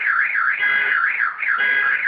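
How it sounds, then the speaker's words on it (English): A car alarm on a New York street wails continuously, its pitch sweeping up and down in a steady repeating siren cycle, loud and close. "Car alarms following me everywhere I go in New York."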